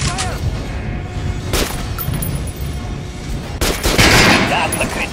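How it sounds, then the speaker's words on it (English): Gunfire at a target in the video game Metro Last Light, with a few loud, sharp shots spaced seconds apart over a steady background of game ambience. "Try a headshot."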